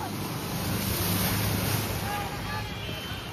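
An overflowing stream rushes along beside a blocked road, a continuous broad roar of flowing water mixed with wind buffeting the microphone.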